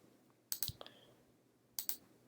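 Computer mouse clicks in a quiet room, a quick cluster of three or four sharp clicks followed by a pause and then a close pair, with no voice.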